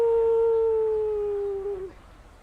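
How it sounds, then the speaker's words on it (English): A collie in a New Zealand park gives one long, clear howl that holds steady and slowly sinks in pitch before breaking off near the end, loud and close against quiet outdoor background. "it's a lassie dog."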